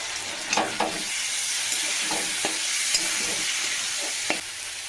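Tomato, green chilli, turmeric and Kashmiri chilli powder fry in a pan for ghugni, a continuous bright sizzle with a few soft scraping stirs, close and steady with no talking.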